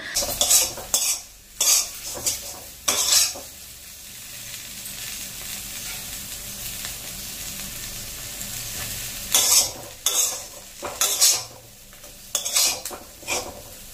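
A coriander fry sizzles steadily in a pan while a utensil scrapes and clatters against the metal in bursts of stirring, quieter in the middle and busier toward the end.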